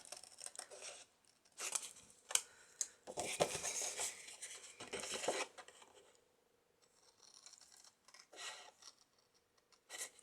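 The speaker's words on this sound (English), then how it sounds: "Oh, I can't get my scissors in the right place." Scissors snipping and cutting card paper while making a butterfly-inspired folio journal pocket, quiet close-up cuts in short bursts with some rustling and handling between them.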